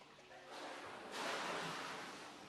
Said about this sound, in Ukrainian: Водоспад для е, шиї.